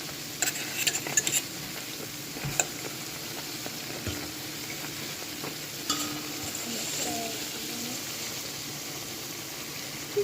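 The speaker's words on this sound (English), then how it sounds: "I have to keep on turning them, so you know, so them brown equally" Saltfish frying in a pan as the pieces are turned over and over to brown evenly, a steady soft sizzle with a few sharp utensil scrapes and clinks near the start and scattered through.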